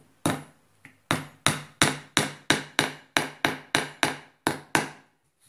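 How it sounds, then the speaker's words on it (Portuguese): A hammer drives a small nail while a key holder is being made: about a dozen sharp, evenly spaced close taps in a steady rhythm, each ringing briefly, with no talking. "já dei uma marteladinha, vou botar outro aqui"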